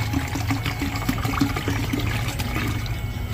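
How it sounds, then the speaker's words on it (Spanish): Water poured into a pot of chicken pozole, a steady continuous splashing and gurgling stream, fairly close and loud, with no talking. "Ya le vamos a poner la agüita."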